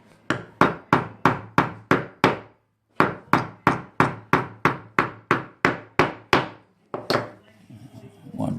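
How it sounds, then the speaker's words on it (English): Small nails being hammered into wooden dollhouse porch steps: two runs of sharp, evenly spaced taps, about eight then ten blows, close and loud, ending with a last strike and light handling noise. "now you're just going to tap your 2 nails in"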